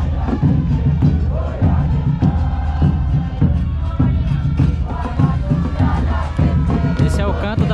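Football supporters of Cerro chant together in a stadium in Encarnación, Paraguay, a loud, continuous mass of voices with rhythmic pulses and drumming underneath, filling the whole stretch.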